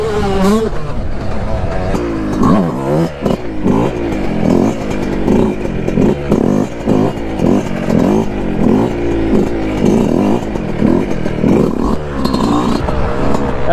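Loud motorcycle engine revving up and down repeatedly as it rides, with rough wind noise throughout and a voice briefly near the start.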